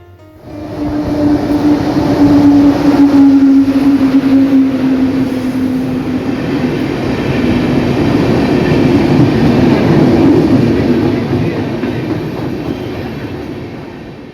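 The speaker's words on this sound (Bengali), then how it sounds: "আরও অনেকগুলো ট্রেন গেল মালগাড়ি গেল সেগুলোই দেখছি" Passenger and freight trains rumble loudly past through a station, wheels clattering on rails with a brief high squeal early on, the roar swelling and slowly fading.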